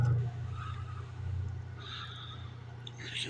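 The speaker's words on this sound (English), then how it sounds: "you can see the motor spins." Electric motor spinning after a capacitor jumper fix, a steady low hum with a faint whine that holds even and quiet throughout, with no one talking over it.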